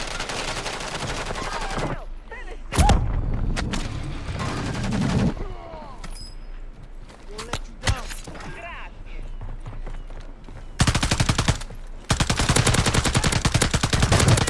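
Bursts of rapid gunfire from the video game Art of War, loud and dense in several volleys, with quieter stretches between them and a voice talking in places.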